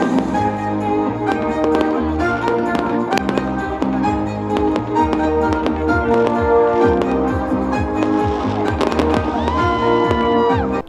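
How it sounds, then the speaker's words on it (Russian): A celebratory fireworks salute for Independence Day in Bobruisk, Belarus, with repeated booms and crackling bursts layered over music and a distant crowd, continuing steadily and loudly throughout. "Сразу после исполнения кульминация дня – праздничный салют."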